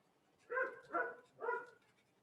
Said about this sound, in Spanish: Están haciendo callar a la perrita que ladra al frente.